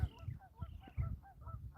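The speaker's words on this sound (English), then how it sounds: "There they are. Canada geese, actually." Several Canada geese honk in quick, overlapping calls, moderately close, with a few low thumps between them.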